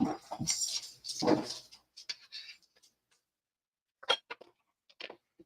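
Small dogs make short whimpers and yips, a cluster of close, loud vocalizations at the start, then sparse faint scratches and a couple of brief sharp yelps after a pause, in a quiet home kitchen.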